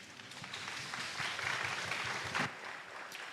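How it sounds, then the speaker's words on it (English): Audience applause at an international symposium, a steady wash of many hands clapping for about three seconds at moderate, even loudness, with no talk over it. "You're clapping because I said one question"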